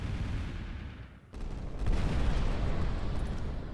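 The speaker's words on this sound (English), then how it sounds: "I'm gonna go ahead and send a thermal barrage here" Thermal barrage weapons fire in the Final Theory space battle game, a dense rolling wall of booming, rumbling blasts after a brief dip near the start, growing louder and sustained.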